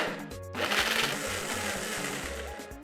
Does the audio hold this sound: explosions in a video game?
no